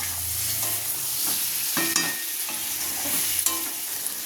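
A spoon scrapes and stirs sweet, sour and spicy mango pickle frying in plenty of hot oil, with a continuous sizzle and repeated clinks and scrapes against the pan, close up and with no voices.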